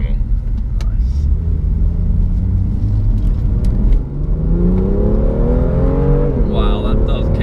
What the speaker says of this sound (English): you switch between the modes, you can hear the exhaust difference immediately